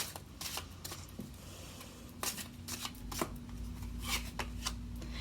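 Tarot cards are shuffled by hand in repeated soft, riffling bursts, close and fairly quiet with no talk over them.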